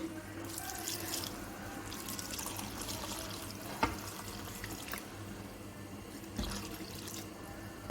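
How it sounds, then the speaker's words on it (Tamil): Water and thin second-press coconut milk are poured into a simmering leg-piece chicken gravy, giving a soft, continuous trickling pour with light splashes and an occasional clink of a vessel, fairly quiet and with no talk. "இனி லைட்டாக தண்ணி ஊற்றலாம்."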